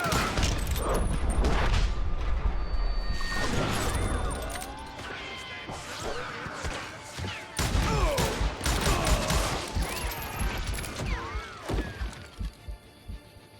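Gunfire in the Call of Juarez: Gunslinger video game, a dense burst of rapid shots with shattering, breaking debris and heavy impacts, continuing in bursts through the stretch.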